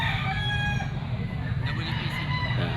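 A rooster crows at a busy poultry and pet market in Grotto, over a steady low crowd rumble with scattered clucks from other fowl nearby.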